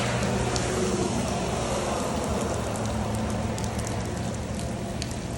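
Heavy rain pours down in a steady, dense hiss that stays loud and unbroken from start to finish, with no voices over it.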